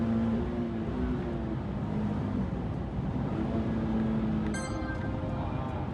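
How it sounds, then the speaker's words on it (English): A stock Nissan 370Z on the race track at Sydney Motorsport Park, running near maximum oil temperature, holds its engine at steady revs. It makes a loud, constant drone with no talk. "You can hear it here just holding on the revs. It's not happy."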